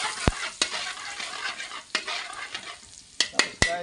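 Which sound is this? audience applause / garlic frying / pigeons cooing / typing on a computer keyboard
garlic frying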